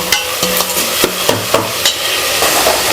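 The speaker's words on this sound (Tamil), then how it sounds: "நல்ல வாசனையாக இருக்குது அந்த பூண்டு வெங்காயம்லாம் அப்படியே வதக்கும் தக்காளி கலர்லாம் அப்படியே இறங்குது" Garlic and onion sauté with tomato in a hot pan, giving a loud, close, steady sizzle. Regular spoon scrapes and taps come through as the mixture is stirred.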